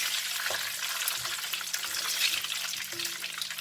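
Cumin seeds hitting hot oil for a Punjabi dal mash, a dense, bright, continuous sizzle heard up close with no talking.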